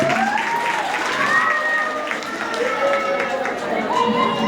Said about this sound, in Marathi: आमच्या मुलांसाठी एकदा जोरदार टाळ्या